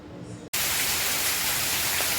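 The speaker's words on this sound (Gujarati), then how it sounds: "વરસાદ કેટલો બધો પડી રહ્યો છે અમારા ત્યાં ધોધમાર વરસાદ પડી રહ્યો છે" Heavy rain pouring in a dense, loud, unbroken roar that starts abruptly after a brief quieter moment.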